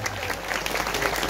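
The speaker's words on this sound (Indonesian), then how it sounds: "tepuk tangan pendeta Gilbert" An audience at a Christian church gathering applauds a pastor, a dense, steady wash of clapping hands filling the room from start to finish.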